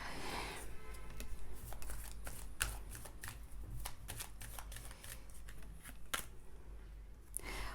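Tarot cards being shuffled by hand, a continuous close flurry of crisp riffling and flicking snaps in quick irregular rhythm over a low steady hum, with no talking.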